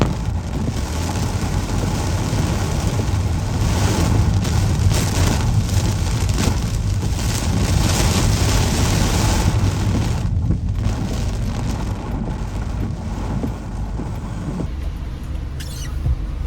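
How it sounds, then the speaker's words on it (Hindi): Heavy rain with wind drums steadily on a car during a storm near Mecca, a dense continuous roar with no break, loud and close throughout, with no talking. "बारिश इतनी तेज़ हो गई कि हम वहाँ नहीं जा सकते थे। हमारी गाड़ी बह जाती अगर हम मज़ीद आगे जाते"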